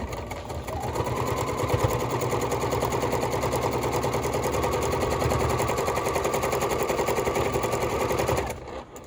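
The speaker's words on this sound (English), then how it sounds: "you just put your sides together, matching, and sew down the side" A sewing machine runs a quarter-inch side seam on a small charm bag, a loud, close, continuous rapid chatter that holds steady for several seconds before stopping.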